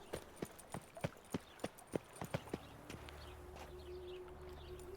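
Roach the horse trots in The Witcher 3: Wild Hunt, a run of about ten crisp, evenly spaced hoof clops that stops abruptly, leaving a soft ambient hum.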